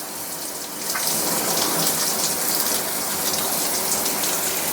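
A waterfall showerhead sprays water in a loud, steady gush that swells after about a second and then holds at full flow.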